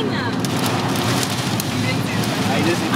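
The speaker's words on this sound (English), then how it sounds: "I saw the rain" Heavy rain hisses steadily with gusting wind buffeting the microphone, with people talking over it.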